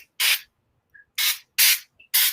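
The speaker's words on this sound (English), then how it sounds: "So I'm going to take my, just like a little olive oil spray." An olive oil spray bottle is pumped onto dough in four crisp, loud hissing bursts, each lasting a fraction of a second with short silent gaps between, and no talking.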